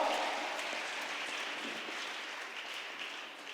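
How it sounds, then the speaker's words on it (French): Fairly faint, steady applause and cheering from a church audience at a Sunday school children's day service, the clapping texture easing slightly toward the end. "On va les acclamer plus fort."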